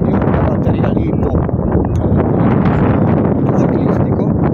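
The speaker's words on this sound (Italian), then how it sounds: "Spero che si senta qualcosa con questo vento." Strong wind buffets the microphone on the summit of Monte Aiona, a loud continuous roaring rumble with gusty fluctuations and no clear pauses.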